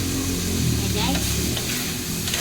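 Pork sautéing in a pan for a mung bean stew, a steady close sizzle and fry with occasional stirring scrapes running throughout.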